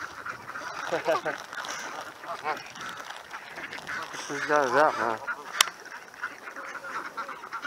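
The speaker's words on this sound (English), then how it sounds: "Yeah, green lake duck army." Waterfowl on Green Lake in Seattle, geese or ducks, call out in bursts of honking quacks, loudest in a run near the middle of the clip, while people talk casually nearby.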